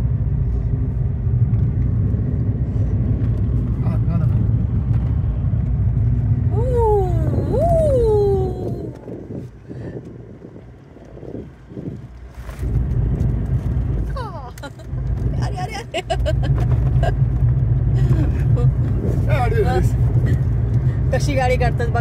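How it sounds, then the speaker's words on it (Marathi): Cars overtake on an open road from Uran to Shirdi, a steady loud engine and tyre rumble that dips briefly in the middle and then swells again, heard under talk with a few high squeals. "कशी गाडी काढतात बघा फ्रेंड्स, बघा कशी गाडी काढतात."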